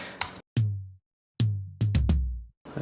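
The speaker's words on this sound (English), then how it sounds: "they sound like toms" Four or five tom drum hits in a recording session, each a sharp attack with a deep, ringing low decay, spaced unevenly with short silences between.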